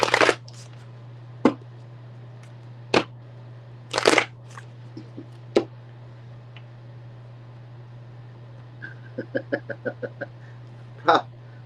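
Cards are shuffled in several short, crisp bursts, ending in a quick riffle of rapid flicks, over a low steady hum.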